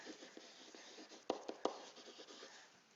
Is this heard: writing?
yes